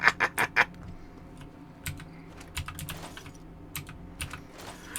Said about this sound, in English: Keyboard smash!